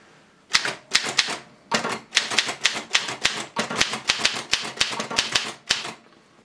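Loud, close, rapid mechanical clacking of an old manual typewriter typing in double-spaced mode, with uneven runs of key strikes and short gaps, no voices over it.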